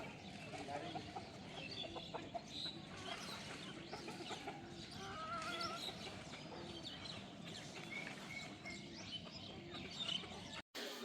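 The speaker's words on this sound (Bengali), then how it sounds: "মুরগি সব ছেড়ে দিছি সকাল সকাল" Village chickens let out on a winter morning cluck and chirp faintly across a farmyard. A busy outdoor background fills the scene, with soft voices now and then.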